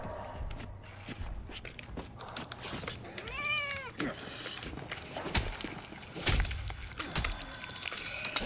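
A cat meows once in the Dead Island 2 video game, a short rising-falling cry amid scattered game noises, thuds and crunching footsteps.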